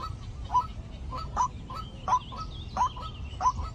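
Repeated loud, harsh waterhen calls, five or so bursts spaced about a second apart over a low rumbling background.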